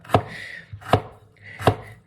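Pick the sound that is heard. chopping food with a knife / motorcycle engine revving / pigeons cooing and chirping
chopping food with a knife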